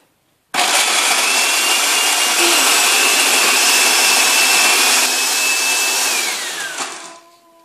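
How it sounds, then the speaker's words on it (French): A blender grinds hazelnuts with salt into nut butter, a loud continuous whirring roar that kicks in abruptly, runs steadily with a slowly falling motor whine, then winds down near the end. "Et je réduis les noisettes en beurre dans environ 3 minutes."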